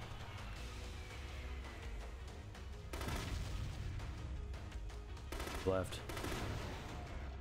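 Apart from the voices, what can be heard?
explosives blowing up in The Conduit video game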